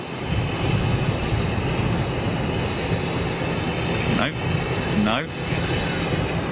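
An Embraer 175 jet on approach passes overhead as a steady broadband roar with a rising whine, moderately loud and continuous, while a person speaks briefly.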